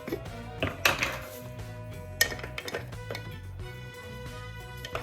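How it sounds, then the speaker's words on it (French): Garlic and ginger dropped into a blender jar while cooking red lentil dahl, heard as a few light clinks and knocks of pieces and utensils against the container, over a steady low background hum. "Je mets l'ail et le gingembre dans le mixeur."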